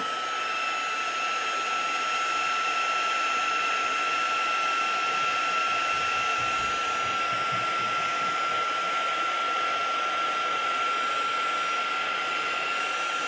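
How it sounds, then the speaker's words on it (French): A heat gun blows continuously for heat embossing, producing a loud, steady whirring rush with a fixed high whine and no pauses. "on recommence la même technique que tout à l'heure avec notre pistolet chauffant"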